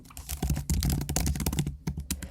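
Rapid clicking of keys on a computer keyboard during a statistics lab session, a close, busy burst of irregular keystrokes with a few quieter pauses.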